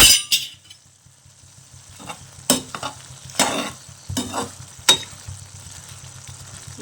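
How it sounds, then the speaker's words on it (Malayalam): Prawns frying in oil in a pan for a Kerala-style prawn biryani, a steady close sizzle broken by several sharp stirring clinks and scrapes of a utensil against the pan. "ചെമ്മീന് പൊരിക്കാൻ എണ്ണയിലേക്ക് ഇട്ടിട്ടുണ്ട്"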